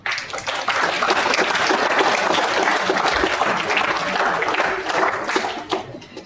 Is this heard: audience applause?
yes